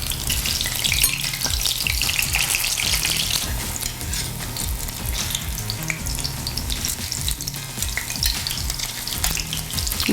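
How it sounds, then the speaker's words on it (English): Pieces frying in hot oil in a pan until golden brown and crispy, a loud, steady sizzle and crackle close up, with faint splashes and stirring in a kosher home kitchen. "we're gonna fry them for about 2 to 3 minutes, just until they're golden brown and crispy"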